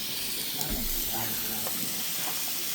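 Flathead fillets and calamari cooking straight on a grill at a catch-and-cook spot, giving a constant faint hiss and sizzle with no pauses, under soft background noise.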